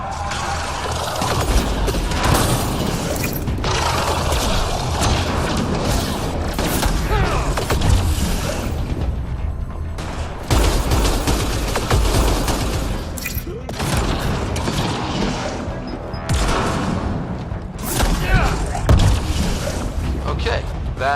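Gunfire in a firefight in Mass Effect Andromeda, fought while guarding a console in a hangar: bursts of rapid shots and booms come back again and again over a steady background, with voices talking now and then.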